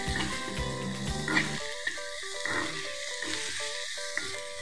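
Potatoes and broccoli fry in a pan with turmeric, coriander and black pepper powder, giving a steady sizzle with soft stirring clinks over several seconds and no voices.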